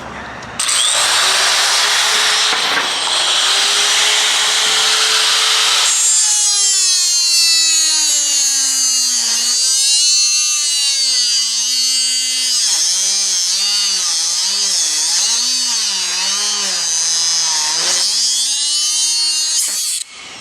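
Bosch DG300LPD paddle-switch die grinder with a burr, a loud continuous high whine that drops and wavers in pitch as pressure bogs it down, then recovers before cutting off.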